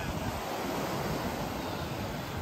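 Ocean waves wash onto a beach at Waikiki, Hawaii, giving a constant broad surf hiss with light wind noise and no talking.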